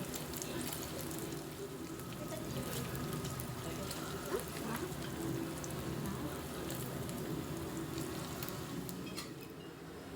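Fish fries slowly in a pan over a low flame, giving a soft, continuous sizzle that holds steady, with faint kitchen clatter and no clear talk.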